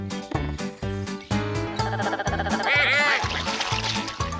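Two cartoon ducks on a farm in the children's show Tractor Tom trade quick, loud, bright quacks that repeat in a bouncy rhythm over light background music.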